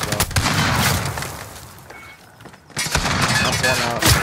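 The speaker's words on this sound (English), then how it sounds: "Using a fire shotgun again." Fire shotgun blasts in a video game come in dense bursts of rapid booming shots at the start, then fade to a brief lull before another loud flurry of gunfire breaks out.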